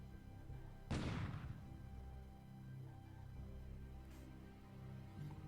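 A naval shell hit or coastal gun firing in the war game War in the Pacific sounds as one loud, close boom that decays into rumble, followed by a much fainter thud a few seconds later over a low background hum.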